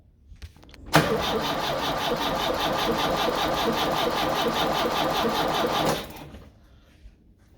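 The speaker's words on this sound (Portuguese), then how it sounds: "vamos dar a partida no carro" A Chevrolet S10/Blazer with an EFI engine cranks and fires up, then runs at a steady, loud idle for about five seconds before cutting off abruptly, with no talk.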